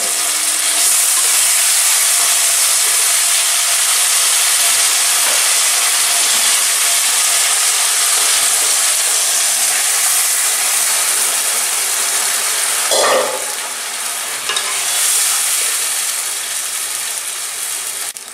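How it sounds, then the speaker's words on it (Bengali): Hot water poured onto sautéed chicken in a wok sends up a loud, continuous steamy hiss and sizzle, with a brief metallic clatter partway through. "এবার আমি কষা মাংসে গরম জলটা দিয়ে দেব এবং ঢেকে দেব"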